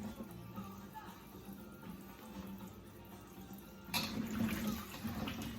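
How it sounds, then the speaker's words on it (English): Cold water runs from a tap into a container of harvested potatoes, a steady rushing flow that grows louder and brighter partway through. "So I'm just going to fill this up with cold water, make sure my potatoes are underneath the water"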